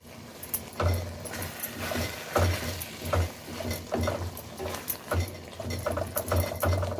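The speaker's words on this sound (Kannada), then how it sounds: "ಇನ್ನೊಂದು ನಾಲ್ಕೈದು ನಿಮಿಷ ಕೈ ಆಡ್ತಾನೆ ಕುದಿಸ್ಕೊಳ್ಳೋಣ" A pot of brinjal and pea palya bubbles and simmers while a spoon stirs through it in steady scraping, clattering strokes, close up with no voices.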